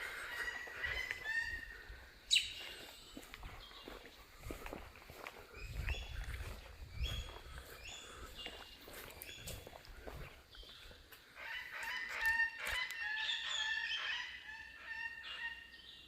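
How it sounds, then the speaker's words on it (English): Currawongs call on the west coast, their loud, rising and falling honking notes coming in bursts over a low rumble and scattered footstep-like noises. "Love the sound of Currawong since I've been up the west coast."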